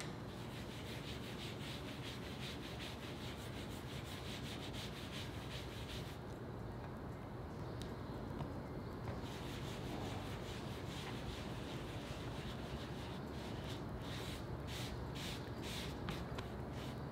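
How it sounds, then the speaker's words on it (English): A microfiber cloth vigorously buffing a dyed leather cuff bracelet, a continuous close rubbing hiss that keeps up without a break, with rhythmic strokes and no talking. "vigorously buff with a microfiber cloth to get any excess dye pigment off the surface"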